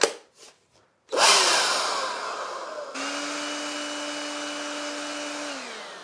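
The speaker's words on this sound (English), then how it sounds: "This is a small size leaf blower." A small, light battery-powered leaf blower spins up after a few brief clicks, blowing with a loud steady whoosh and a high motor whine, then its pitch steps up and the whine holds.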